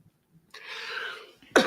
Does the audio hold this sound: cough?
yes